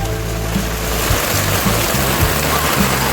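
Floodwater after heavy rain in Navsari rushes past in a loud, continuous wash with low gurgling surges underneath, close by and with no voices.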